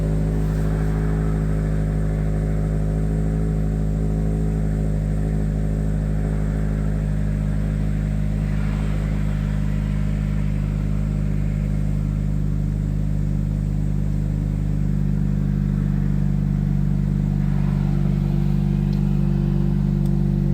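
Car engine idling high just after starting up, a steady, close, loud drone with strong low harmonics that holds throughout with no talk.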